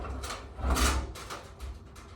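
A linen closet door closes nearby with a soft sliding swish and a dull thud, followed by a few quieter knocks, with no talking.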